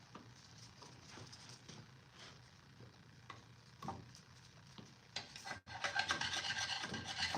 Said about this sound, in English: Gasket scraping.